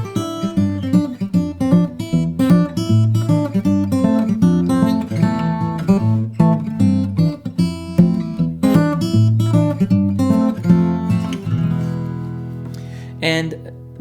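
A song's verse on solo fingerstyle guitar: a walking descending bass motif with plucked chords on top, steady and even, recorded close with no talking, ending on a light squeak.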